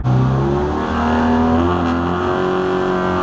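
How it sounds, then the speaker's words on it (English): Several Citroën 2CV race car engines rev loudly together on the grid before a race start at Pembrey, a steady roaring drone with rising and falling pitches, continuous throughout. "the drivers start to rev their engines."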